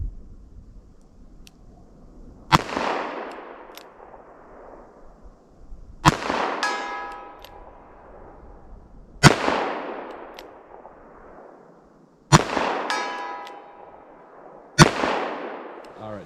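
Loud .38 Special and .44 Special revolver shots firing semi-wadcutter bullets outdoors, five sharp cracks spaced a few seconds apart, each trailing into a long ringing decay with metallic resonance.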